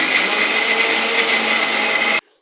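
Kitchen blender pureeing tomato pieces, a loud, steady high-pitched motor roar running unbroken and then cutting off abruptly near the end, leaving near silence.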